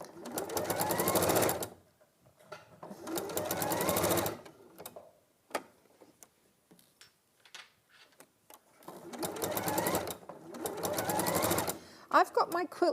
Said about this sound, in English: I'm going to just stitch it down